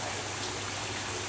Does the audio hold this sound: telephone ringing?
no